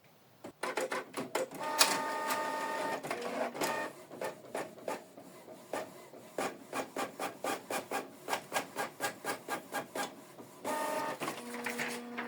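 A Canon MG3600 series inkjet printer runs a test page: a short whir, then rapid rhythmic mechanical clicks and rasping strokes of the print head shuttling back and forth, ending in a steady feed hum.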